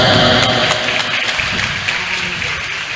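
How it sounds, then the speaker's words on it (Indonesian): An audience at a Sidogiri Islamic school competition event applauds the participants, a steady wash of clapping, loud and fairly even throughout with no one speaking over it. "berikan aplaus yang meriah, tepuk tangan yang meriah kepada mereka semuanya"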